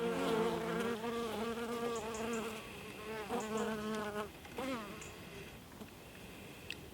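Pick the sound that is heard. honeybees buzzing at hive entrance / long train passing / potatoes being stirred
honeybees buzzing at hive entrance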